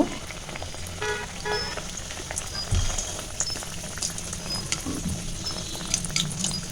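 Snacks deep-fry in a pan of hot oil, giving a dense, continuous sizzle with scattered crackles and pops, close and fairly loud throughout.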